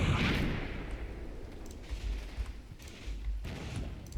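Gunfire and heavy artillery from the WWII Eastern Front wargame Combat Mission Red Thunder, a deep booming blast up front followed by rolling rumbles and scattered sharper shots and crackles through the rest.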